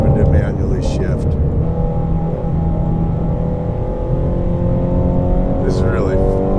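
A Speedkore carbon fiber Shelby GT350R Mustang with a manual gearbox drives along, its engine a loud, steady droning hum heard from inside with some shifting in pitch, while a voice talks over it at moments.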